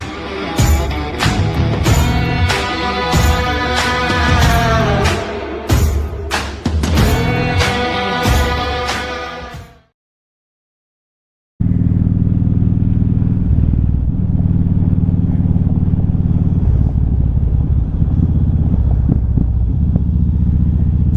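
Music plays for about ten seconds, then a short silence. After it, a motorcycle engine rumbles low and steady throughout the ride, mixed with a constant wash of wind.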